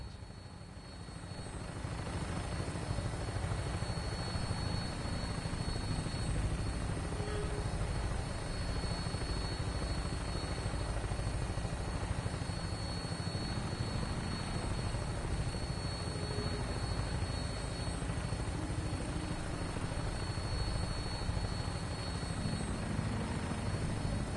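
An aircraft flies on final approach to an airport in Fallout 4, a constant, even, rotor-like engine drone that fades in at the start and then holds steady, with no voices.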